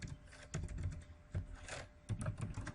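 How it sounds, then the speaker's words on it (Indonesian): Fingers type on a computer keyboard in quick bursts of soft, close key clicks separated by short pauses, faint and alone with no talking. "Kita ketik ulangan"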